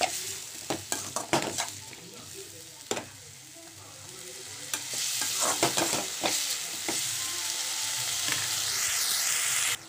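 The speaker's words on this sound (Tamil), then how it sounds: "தக்காளியும் நல்லா வதக்கி விடுங்க" Tomatoes sauté for a chicken masala gravy with a spoon scraping and knocking the pan in a cluster of sharp strokes, then a rising, steady sizzle that fills the second half.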